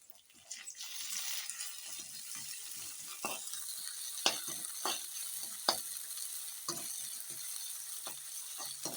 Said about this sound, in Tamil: போட்டு இஞ்சி பூண்டு பச்சை பச்சை பச்சை வாசனை போகிற வரைக்கும் நீங்கள் கொஞ்சம் வதக்குங்க